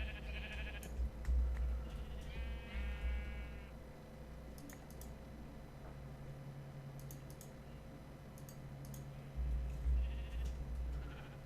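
Two or three short sheep bleats from the Minecraft video game, moderately loud and close, over a quiet ambient bed with soft clicks of keyboard typing.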